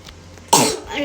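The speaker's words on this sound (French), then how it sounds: "j'ai une grosse toux, donc c'est un peu compliqué" A single sharp, close cough bursts out from someone with a heavy cough, following a quiet moment.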